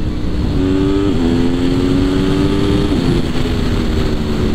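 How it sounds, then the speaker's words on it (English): A 2021 Aprilia Tuono V4 Factory motorcycle engine accelerates hard, its droning roar climbing in pitch through two gear changes under strong wind rush, loud and steady. "That's the best sound in motorcycling."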